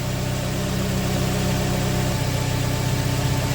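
A 2005 Nissan Altima engine idles with a steady, even rumble and a constant low vibration, uninterrupted for a few seconds.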